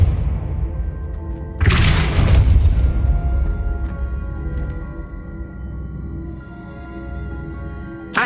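A Depulso spell cast in Hogwarts Legacy lands as a single loud booming impact with a bright burst, then fades into a lingering low rumble and quiet tonal ambience, with another sharp hit right at the end.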